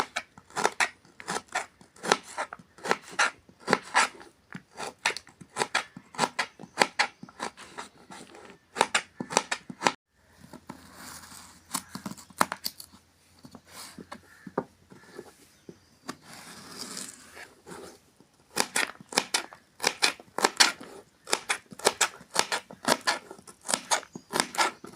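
Radish being chopped into small pieces with a knife on a board, a long run of crisp rapid cutting taps in quick bursts with a short pause midway, close and alone.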